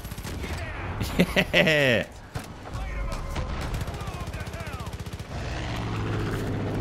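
Rapid gunfire in the Far Cry 5 video game, dense bursts of shots layered over game noise and a whirring engine, with a voice talking over part of it.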